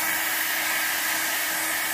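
A hair dryer runs steadily and loudly at close range, blowing across alcohol ink on a painted surface, a continuous even whoosh with no talking over it.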